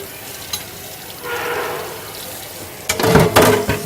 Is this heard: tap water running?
yes